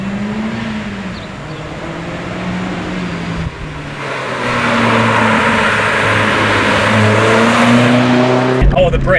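A 1999 Mazda Miata NB driven hard through corners, its engine droning and rising in pitch as it accelerates, growing louder midway, with wind and road noise and a sharp shift near the end.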